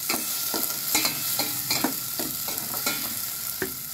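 Lemongrass sizzles in a pan with garlic, onion and tomato, a steady frying hiss broken by repeated stirring scrapes at a brisk, uneven rhythm, close and moderately loud with no talking.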